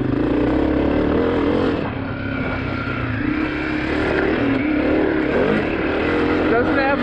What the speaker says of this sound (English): Doesn't have much torque down off the bottom, but it revs pretty clean.